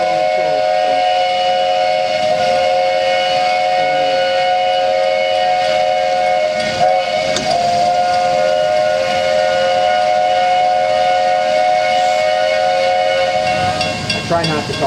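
Walt Disney World Railroad steam locomotive whistles blow a loud, sustained chord for many seconds, close by, with hiss and machinery noise underneath and a brief dip partway through.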